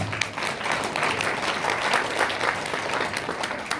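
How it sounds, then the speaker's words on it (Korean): Audience applause fills a hall at a Korean poetry and community gathering, steady dense clapping from a sizable crowd sustained throughout without pause. "이럴 때 박수 한번 쳐주는 겁니다."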